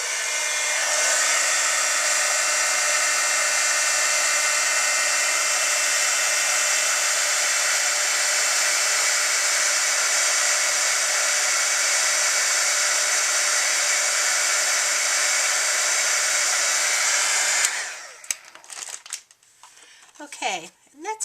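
A heat tool runs steadily for about eighteen seconds, drying embossing powder on a handmade Valentine card, a loud, even blowing whir that cuts off abruptly, followed by faint handling noises.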